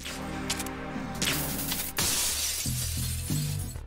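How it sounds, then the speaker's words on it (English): Glass window in the Tanker crew lounge of Metal Gear Solid 2 shatters loudly, a sharp crash followed by scattering shards, repeated in bursts over steady game background music. "Snake can break the main glass window."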